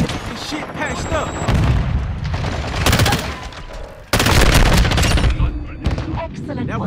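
Video-game gunfire pelts the player in a team match, rapid bursts and loud impacts packed densely over several seconds, with a sharp jump in intensity partway through, while game voices talk over the din.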